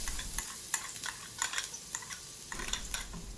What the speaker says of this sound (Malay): Bila minyak dah panas, bolehlah masukkan bawang putih.